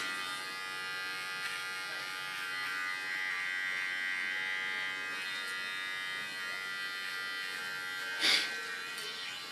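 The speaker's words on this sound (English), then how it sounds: "with my small clipper, I sharpen the contour line and make use of the natural fall" Small electric hair clipper buzzing steadily while trimming the contour line behind the ear on ultra short platinum blonde hair, a close continuous hum with a short sharper burst near the end.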